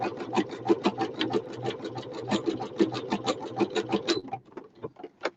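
A sewing machine stitches a decorative seam, its needle ticking in a fast, even rhythm for about four seconds before slowing to a few last stitches, fairly quiet and close.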